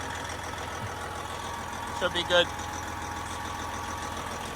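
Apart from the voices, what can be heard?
truck engine idling while warming up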